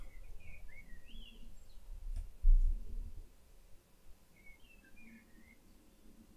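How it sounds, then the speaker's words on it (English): Small birds chirp outside in a few faint, brief bursts, once near the start and again a few seconds later, over quiet room noise and one dull thump. "No chirping from the birds, please."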